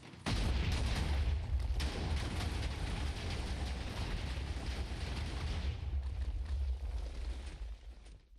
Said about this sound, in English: So actually going through and firing the cannon, just shooting it off into the distance to see where things explode.